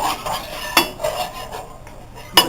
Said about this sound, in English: So I'm just going to stir it a little bit.